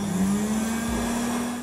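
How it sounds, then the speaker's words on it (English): A weak electric hand dryer in a modern airport bathroom blows with a steady, unbroken whirring drone, fairly close and loud, with no talking over it. "The bright, clean bathrooms each have exactly one weak-ass hand dryer."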